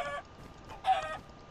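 Minecraft chicken giving two short clucks, the second slightly louder, with quiet gaps between them and no talking.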